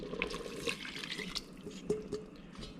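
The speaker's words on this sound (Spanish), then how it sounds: "Ahora lo que voy a hacer es agregar un poco de agua" Water poured into a simmering pot of beef soup (carne en su jugo), a short splashing, dripping stream with light clinks of cookware, fairly close.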